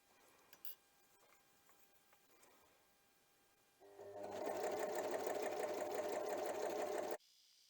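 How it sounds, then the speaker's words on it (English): An overlocker stitches around the crotch seam of a pair of pants, starting after a few quiet seconds of faint handling and running as a loud, fast, steady mechanical whir for about three seconds before stopping abruptly. "I'm just going to overlock around this crotch area."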